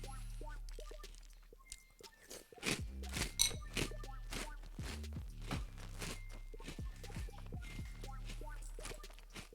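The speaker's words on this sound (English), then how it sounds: "Me crunching." Close, loud crunching while someone eats a meal, a run of sharp irregular bites and chews repeating steadily over several seconds with no talk.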